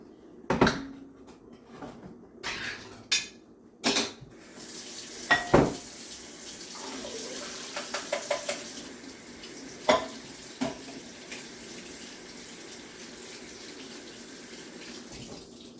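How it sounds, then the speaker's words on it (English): A can of Great Value chickpeas is opened and drained at a kitchen sink: scattered sharp metallic clicks and clanks, then a short run of splashing liquid and a few more knocks, close and sparse with quiet gaps between. "first I'm going to open and drain the Great Value brand chickpeas"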